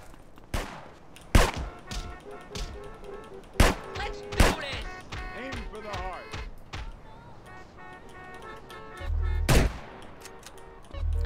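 In the game GTA San Andreas, enemies fire large guns in a handful of sharp, separate shots, spaced apart, with someone talking between and over them.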